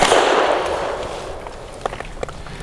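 A Tisas Bantam 9mm pistol fires a loud, soft-edged report that fills the opening and rings out, followed by faint scattered metallic clicks.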